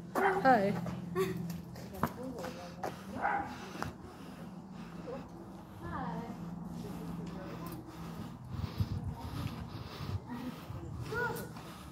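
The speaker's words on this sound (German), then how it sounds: "Na, süßer Hund?" A dog gives scattered barks, yips and soft whimpers nearby at low volume, mixed in with people talking quietly over a faint outdoor background.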